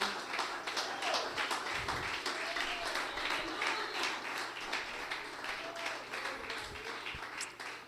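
Church congregation applauding during a Spanish-language sermon, a soft, steady wash of clapping heard at moderate distance throughout, with faint voices mixed in.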